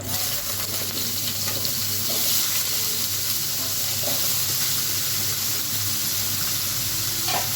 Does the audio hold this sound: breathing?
no